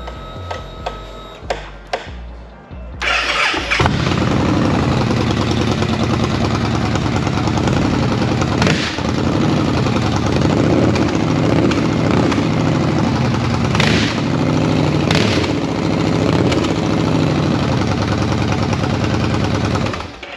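A Victory High-Ball motorcycle with black heat-wrapped exhaust gives a few brief cranking clicks, then catches and settles into a loud, steady, close idle that runs uninterrupted to the end.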